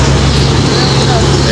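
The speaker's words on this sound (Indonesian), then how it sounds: "Ini yang bus pariwis ya." A premium tour bus, a Jet Bus 3 DD double-decker, rumbles past with a loud, close, steady engine roar and broad road noise filling the whole moment, while a person talks over it.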